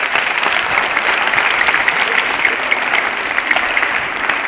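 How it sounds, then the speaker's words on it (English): Students at a school event applaud themselves in a loud, steady wash of dense clapping that holds evenly from start to finish. "Please clap for yourself"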